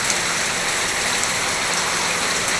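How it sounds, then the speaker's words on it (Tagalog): Heavy rain pours down in a flood-prone area, a dense, loud, unbroken hiss of drops striking surfaces, steady for the whole brief stretch with no voices. "dahil nga po ang lakas ng ulan"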